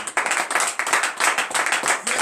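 A church congregation at a morning prayer service in Benin claims its hands together in acclamation, a dense, steady burst of many hands clapping nearby that fills the whole moment without a break.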